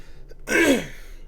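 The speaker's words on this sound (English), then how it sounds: "I again apologize for my constant coughing." A single short, rough cough or throat-clear, close and fairly loud, followed by quiet.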